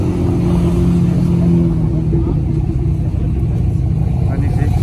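An American classic car's engine runs at a classic car show, a steady low rumble heard up close and continuously under loud crowd chatter and talk throughout.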